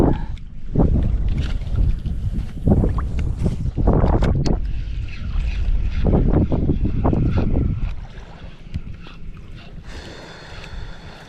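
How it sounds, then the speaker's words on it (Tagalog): Strong wind buffets the microphone in loud, gusty bursts, with rushing low rumble rising and falling throughout and no talking. "Malakas na ang hangin."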